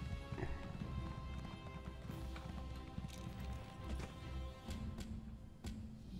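A video game horse gallops with a continuous clip-clop of hooves beneath background game music and ambience, moderately loud and steady the whole way through.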